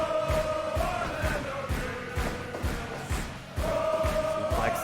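A wrestling crowd roars in a steady, dense wash of noise at a house wrestling show, with rhythmic thumps pulsing through it and no clear speech on top.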